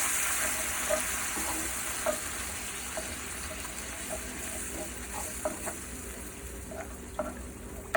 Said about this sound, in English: start stirring it fast so that the yogurt doesn't separate